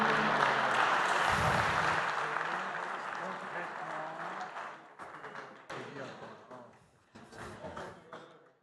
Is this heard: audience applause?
yes